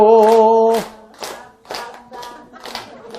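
Audience at a Buddhist temple talk clapping hands in time with a song, about six distinct rhythmic claps, close and loud, following a sung voice at the start.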